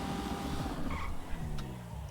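A fast car in a racing video game roars along with tires squealing and skidding, a steady loud engine drone under a continuous screech with shifting pitch.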